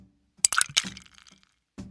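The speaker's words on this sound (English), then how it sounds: "Now I'll pour fresh milk into a glass. Throw some ice." A few ice cubes drop into a glass of milk in a miniature kitchen, giving quick sharp clinks and cracks in a short cluster, then one more soft knock after a pause.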